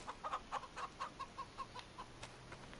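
Chickens in the video game Farming Simulator 25 cluck in a quick, regular series of short calls, fairly faint and alone, trailing off toward the end.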